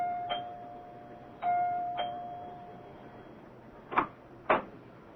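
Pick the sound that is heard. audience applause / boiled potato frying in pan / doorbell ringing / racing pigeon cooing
doorbell ringing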